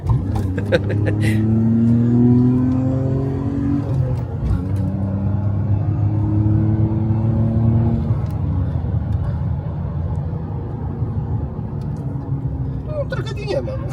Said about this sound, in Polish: będzie trochę dłuższa prosta, więc możemy tą dwulitrówkę teraz ukarać